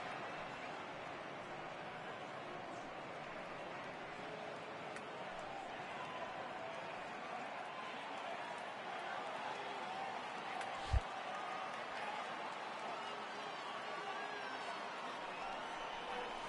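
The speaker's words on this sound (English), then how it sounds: "I can hear the crowd murmuring now, wondering if he hit him on purpose" Steady low murmur of a simulated baseball stadium crowd in MLB The Show 18, a continuous ambient wash with one brief sharp knock partway through.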